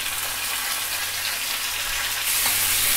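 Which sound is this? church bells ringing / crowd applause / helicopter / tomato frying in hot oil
tomato frying in hot oil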